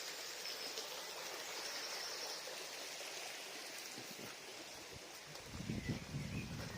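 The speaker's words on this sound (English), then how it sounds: "something about the sound of running water. It's very calming, isn't it?" A stream runs steadily through Luddenden Dean Valley in West Yorkshire, its broadband rush of water continuous and close, with a slightly louder gurgle toward the end.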